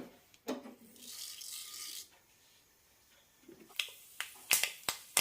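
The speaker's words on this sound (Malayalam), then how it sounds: "കടുക് പൊട്ടാൻ തുടങ്ങിയിട്ടുണ്ട്" Mustard seeds crackling in a tablespoon of hot oil in a pan, with sharp scattered pops coming close together toward the end after a quieter stretch of hiss.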